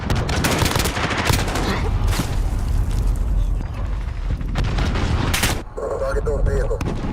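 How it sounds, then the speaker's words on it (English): Chaotic multiplayer battle in Modern Warfare 2019 during an incoming cruise missile strike: loud continuous gunfire bursts, mechanical clatter and explosive rumble, with a sharp blast near the end. "Enemy cruise missile incoming."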